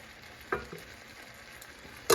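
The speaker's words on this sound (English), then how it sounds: "So I'm adding the pasta in here." Pasta tossed into a hot pan with roasted garlic butter and tomato, a low steady sizzle with a few sharper stirring scrapes and clatters near the start and end.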